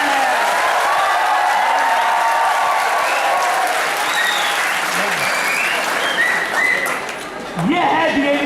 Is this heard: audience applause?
yes